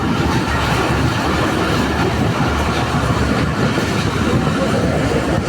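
A train runs steadily on the tracks with a loud, continuous rumble and clickety-clack heard from close by, the noise unbroken throughout.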